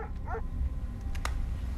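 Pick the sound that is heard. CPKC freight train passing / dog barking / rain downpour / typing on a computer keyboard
dog barking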